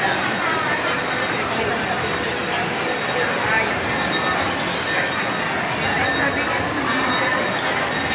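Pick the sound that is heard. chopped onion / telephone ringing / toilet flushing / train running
train running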